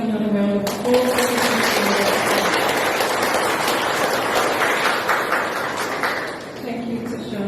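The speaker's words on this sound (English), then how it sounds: "Can we have another round of applause?" A pageant audience at the Miss Samoa 2023 interview round bursts into loud, dense applause that fills the room for several seconds before tapering off, with brief talk heard at the start and end.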